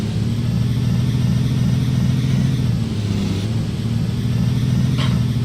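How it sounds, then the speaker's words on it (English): A school bus engine drones steadily while driving, a low, even rumble that holds at constant loudness with a brief faint clatter near the end, and no one speaking. "This bus is a lot quieter than my bus."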